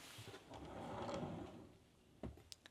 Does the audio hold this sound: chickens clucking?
no